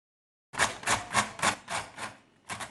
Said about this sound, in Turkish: Şimdi garnitür olarak öncelikle doğrayalım.